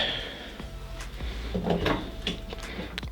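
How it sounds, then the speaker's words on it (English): A car door on a 1978 Chevy El Camino is swung open and shut, giving a couple of solid clunks and latch sounds with some rattling handling noise, fairly close. "Door open and close is pretty good."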